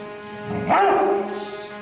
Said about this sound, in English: below the entrance to the guard tower, Abe, the trained ghost hunting dog, seems spooked.